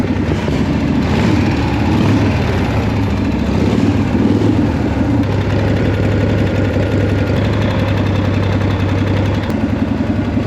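A 1979 Harley-Davidson Shovelhead motorcycle engine runs steadily at idle, with a loud, continuous low rumble and a rough, lumpy mechanical throb.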